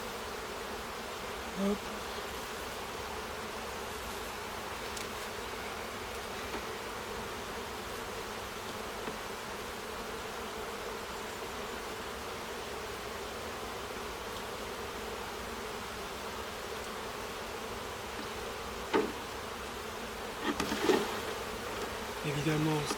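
Honeybees hum around an open hive during a spring inspection, a dense, continuous buzzing swarm close to the microphone, with a few brief knocks and handling sounds and a short spoken word near the start.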